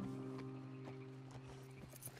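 Horses' hooves clip-clop in Red Dead Redemption 2, a few quiet irregular hoof steps over a low steady hum.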